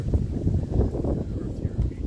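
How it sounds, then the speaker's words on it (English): Gusty wind rumbles and thumps against the microphone continuously at a cemetery in Tamaqua, Pennsylvania, low and blustery, with no clear speech. "Sorry, it's really windy out today."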